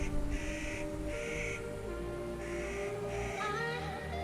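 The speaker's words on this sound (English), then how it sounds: "That bird is annoying." A crow caws repeatedly at a campsite near Crater Lake National Park, a series of loud, harsh calls in clustered pairs, close by over a steady low background hum.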